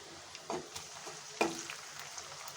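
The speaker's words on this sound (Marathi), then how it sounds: "आता आपण त्यात टोमॅटो टाकून परतून घेऊया" Onion and tomatoes sauté in a pan for a matki (moth bean) curry: a faint, quiet sizzle broken by a few soft scrapes of a spoon against the pan.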